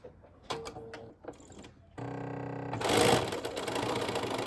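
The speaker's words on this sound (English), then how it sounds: "Turn it over and stitch on the same line as you stitch the rickrack on." A sewing machine stitching rickrack trim onto fabric: a few light handling clicks, then the motor starts and runs in a steady, close mechanical whir that grows louder partway through.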